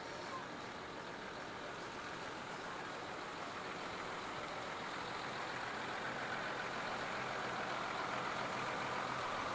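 A DAF military truck towing a 6-ton trailer rumbles past steadily during a liberation parade, a broad continuous engine drone that slowly swells louder.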